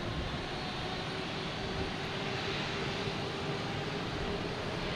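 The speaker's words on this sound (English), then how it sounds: "next to arrive is a A220 coming from JFK, flight 318, JetBlue" A JetBlue Airbus A220 jet arriving at Boston Logan Airport from JFK makes a steady, broad, moderately distant roar that holds level throughout with no talk over it.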